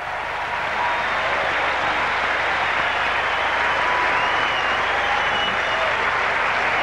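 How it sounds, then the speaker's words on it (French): Steady, dense applause from a tennis crowd at the 1992 US Open, a fourth-round match between Sampras and Forget, sustained at full strength for about seven seconds with no talk over it. "ça applaudit et ça le mérite"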